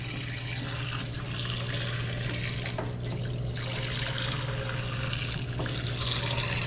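A Harbor Freight Central Machinery parts washer sprays liquid in a steady, hissing, splashing stream that runs continuously at moderate level with no talking.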